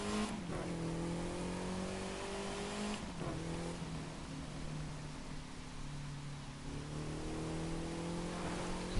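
Car engine in The Crew 2 video game revving and shifting, a steady engine drone that rises in pitch, drops back and climbs again, with some road and tire noise and no talk.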